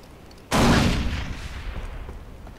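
A grenade goes off in the video game Far Cry 3, a sudden loud blast after half a second of quiet, trailing into a long rumbling decay.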